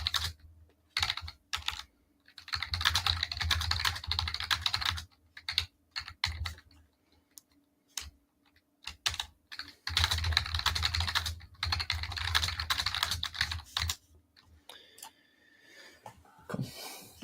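Rapid typing on a computer keyboard, with steady bursts of clicking keys separated by short pauses, close and fairly loud, with no talking.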